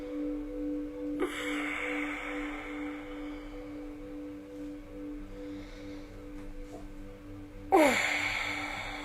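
Two deep, audible breaths during a yoga session, each a soft drawn-out rush of air spaced several seconds apart over a quiet, humming room.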